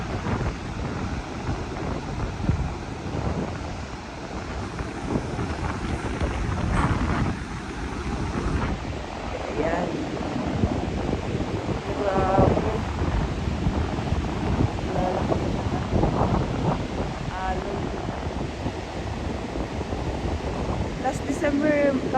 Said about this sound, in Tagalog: yan ang lakas ng alon